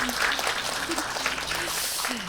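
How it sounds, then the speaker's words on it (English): A conference audience claps briefly to welcome a panelist at an event on AI-based educational transformation, the applause steady and moderately loud for about two seconds. "Please welcome him with a big round of applause."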